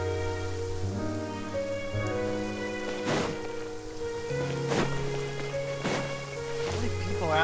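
Rain falls in Genshin Impact, a steady broadband hiss running beneath sustained in-game music, with a few brief splashy transients standing out.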